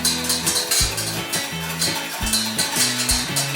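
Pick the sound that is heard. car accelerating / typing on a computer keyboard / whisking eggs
whisking eggs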